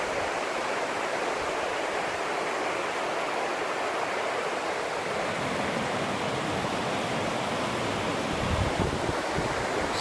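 The Cispus River rushes past a quiet riverside camp where the road dead-ends, a constant full-bodied roar of moving water close by with no voices, steady from start to finish.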